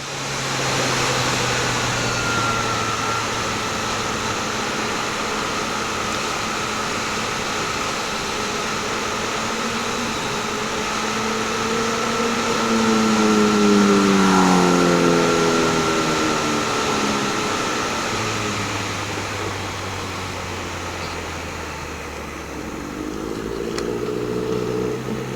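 A Triumph Trident 660 motorcycle fitted with a 17-tooth sprocket pulls hard through the gears, its engine note climbing, dropping at a shift, then rising again over constant wind rush.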